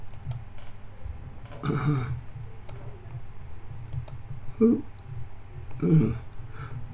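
A computer mouse clicks a few times, in short separate bursts, while a health and safety hazard form is filled in on screen, over low room noise and some muffled talk.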